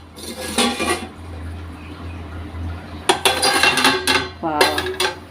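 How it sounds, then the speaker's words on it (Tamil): A metal baking pot lifted off a stove and set down while baking butter cookies, giving bursts of metallic clanks and scrapes near the start and again toward the end, with a low steady hum between. "இப்போ நம்ம இந்த பாத்திரத்தை இறக்கி வச்சிடலாம்."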